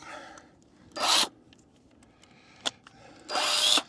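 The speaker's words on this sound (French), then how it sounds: "Bon, on va dévisser ça." Two short bursts of a cordless drill backing screws out of a camper trailer, each about a quarter second of whirring grind, with a sharp tap between them in an otherwise quiet space.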